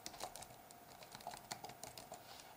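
Typing on a computer keyboard while opening File Explorer in Windows: a quick, irregular run of clicky keystrokes, close and fairly quiet, with no talk.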